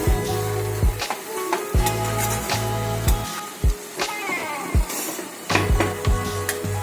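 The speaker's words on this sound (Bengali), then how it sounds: "এবার সবটা মিশিয়ে দিচ্ছি" Spoon scraping and stirring green amaranth curry with grated coconut in a pan, sizzling steadily with repeated clacks and scrapes at an irregular rhythm, close and clear.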